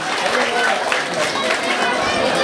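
Crowd applause at an outdoor political event declaring a candidacy for mayor of Diaob, a dense, steady wash of clapping mixed with crowd chatter and voices throughout.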